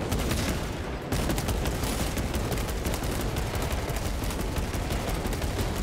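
Heavy, continuous automatic gunfire in the Space Marine 2 video game, a dense rapid barrage that stays loud and unbroken from start to finish with no talk over it.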